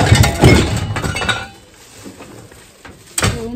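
Glass breaks with sharp, crashing clinks while belongings are cleared out of an old house and loaded onto a rickshaw. A loud burst of shattering opens the clip, quieter rattling follows, and a second sharp crash comes near the end.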